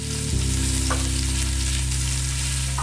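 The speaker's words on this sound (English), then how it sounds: "I'm just going to keep flipping these and get them seared on all 4 sides" Beef short ribs searing in a hot pan, a steady loud sizzle and spatter that fills the whole moment, with a brief clunk near the start and no talking.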